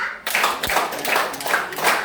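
A group claps in counted rhythm during an Indonesian training session. About five distinct, evenly spaced hand claps ring out close and clear, with no talking over them.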